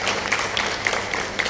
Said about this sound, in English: A round of applause, please, for Carlino.